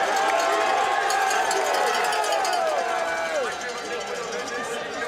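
Loud, dense crowd noise at a cyclo-cross World Cup race in Namur, with cowbells ringing and spectators shouting and cheering continuously, easing slightly toward the end.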